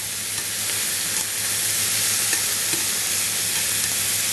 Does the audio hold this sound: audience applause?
no